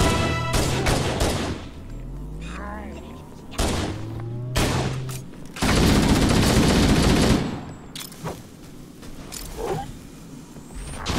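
Turret gunfire in Halo: Combat Evolved, with loud, rapid bursts of automatic shots in several volleys, including a long sustained stretch, mixed with sweeping sci-fi weapon whines and impacts.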